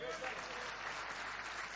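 Audience applause at a mushaira, a Punjab poetry gathering in Patiala, steady and dense throughout, with crowd noise beneath it and no break.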